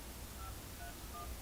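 Three faint dial pad beeps from a phone while a number is being keyed in, short evenly spaced tones buried in a steady hiss.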